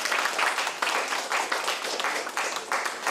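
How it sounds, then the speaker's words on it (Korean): An audience at a policy forum on drug abuse prevention applauds at moderate volume, a full crowd of hands clapping in steady waves that keep going to the end without a pause. "박수 부탁드립니다."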